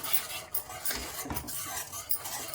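A spoon stirs milk powder and sugar into a carrot sweet mixture in a pot, giving soft irregular scraping and clinking strokes close up, with no voices.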